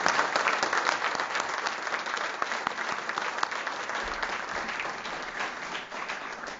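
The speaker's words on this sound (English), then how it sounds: "I would like all of us to give sort of a preemptive round of applause to all of our honorees that are here with us today" Steady applause from an audience honoring award recipients at a university alumni awards ceremony, a dense, even wash of clapping that holds for several seconds without pause.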